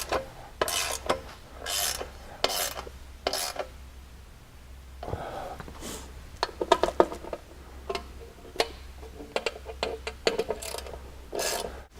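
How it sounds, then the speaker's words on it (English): Hardware being tightened on a Honda Talon front A-arm gives off repeated rasping, ratcheting bursts in short clusters, some spaced apart, close by with a steady low hum underneath and no talking. "you can go ahead and just tighten down the rest of the hardware."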